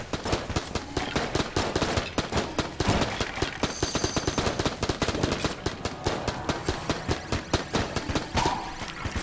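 A beam weapon fires continuously in the chaotic dungeon-crawler game Enter the Gungeon, a loud rapid stream of sharp crackling bursts repeating without pause over the whole stretch, alone with no voices.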